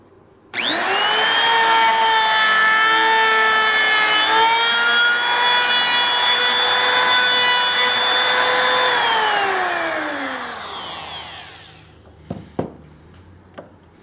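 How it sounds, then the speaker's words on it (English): A DeWalt trim router cuts a 45-degree bevel around the edge of a wooden wine and whiskey bottle stand, a loud steady high whine sustained for about ten seconds before spinning down, followed by a few light knocks. "we'll route around here and just put that little bevel in there"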